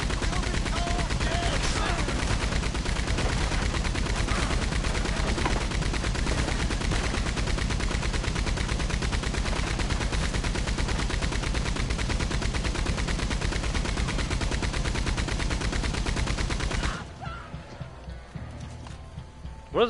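Sustained gunfire in the online video game Red Dead Online, rapid close shots repeating densely for most of the stretch amid hoofbeats and game noise, then cutting off into quieter background near the end.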